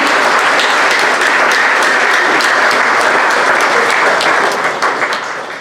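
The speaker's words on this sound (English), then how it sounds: "Give them a big round of applause for their efforts." A school awards assembly audience gives scholarship recipients a big round of applause, loud, dense clapping that holds steady, then thins and fades near the end.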